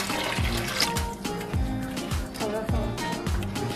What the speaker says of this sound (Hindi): अब इसमें पानी डालते हैं